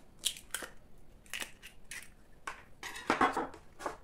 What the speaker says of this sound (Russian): В миску разбиваем одно яйцо.